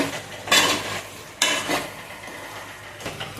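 A spoon scrapes and clatters through a yogurt and chicken biryani mixture in a pot, making a few close, rough stirring strokes with soft sizzling between them.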